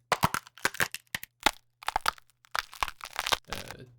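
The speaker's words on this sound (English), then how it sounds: "These layers were sort of a lot of these like rock cracking sounds" Sharp rock-cracking crunches and snaps come in quick irregular bursts, close and crisp, ending with a gritty crumbling rattle.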